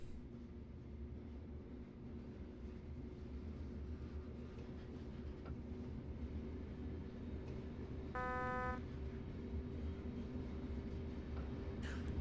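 A DB BR 155 electric locomotive pulls away in the Train Sim World game, giving a low steady rumble and hum. A brief tonal buzzer-like chime sounds partway through, with no talk.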